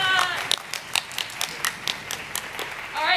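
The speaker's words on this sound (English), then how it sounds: "Big applause for Jessica." Applause and scattered claps from a school orchestra concert audience honoring a birthday, with whoops and cheering voices over the top, fairly close and steady for a few seconds.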